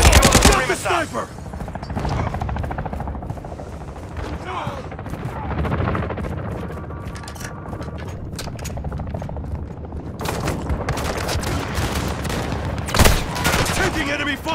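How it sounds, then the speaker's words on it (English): Gunfire in Call of Duty: Modern Warfare II, dense bursts of automatic fire with sharp shots and booms across the whole stretch, mixed with shouted speech. "Taking enemy fire!"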